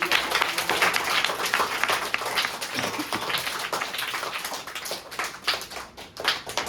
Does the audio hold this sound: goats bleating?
no